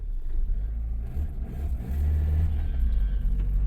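A Mazda Miata, its seized clutch just broken free, drives off in fourth gear with a low, steady engine drone that swells as it gets moving, close and without speech.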